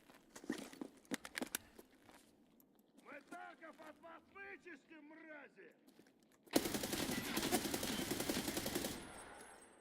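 Rapid gunfire from a magazine dump in the shooter game Escape from Tarkov, a dense sustained burst that sets in suddenly and loud after some earlier scattered shots and a stretch of talk.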